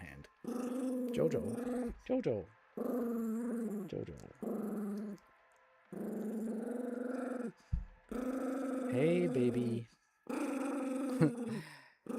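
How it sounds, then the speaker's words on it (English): A territorial dog growls and lets out small barks and whimpers right beside a streaming microphone, in bursts with short pauses, while a person talks soothingly over it. "don't bark into the mic at least"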